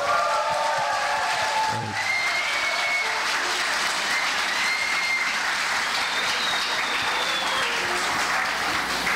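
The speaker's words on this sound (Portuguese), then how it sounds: "Uma salva de palmas." Wedding guests at a church ceremony burst into loud, sustained applause right after the couple's kiss, a dense wash of clapping that fills the whole stretch, with faint voices mixed into the crowd.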